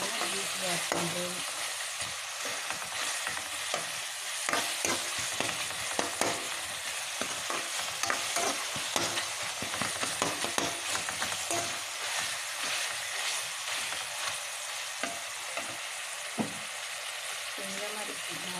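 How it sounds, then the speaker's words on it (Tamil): Tomatoes and masala sautéing in a pan for tomato chicken, a steady broadband sizzle and crackle with frequent clicks and scrapes of stirring throughout, close and continuous with no talking. "நல்லா வதக்கிட்டு இன்னும் கொஞ்சம் நல்லா மசாலா கூட வதக்கும்"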